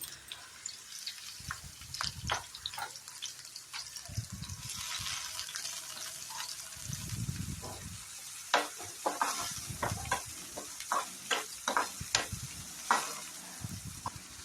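Onions and green chillies fry in hot oil on a pan, a steady close sizzle broken by repeated scraping stirs and clatters of a spatula, with no talking.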